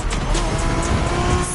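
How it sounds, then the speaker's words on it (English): A Honda NSX from the 1990s races in The Crew Motorfest, its engine a loud, continuous roar with a hint of tire noise throughout. "Are you familiar with the Honda you're driving?"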